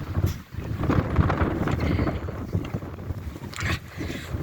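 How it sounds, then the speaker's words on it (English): Wind gusting outdoors, buffeting the microphone with a loud, steady rumbling roar that rises and dips across the few seconds. "the wind is blowing my hair"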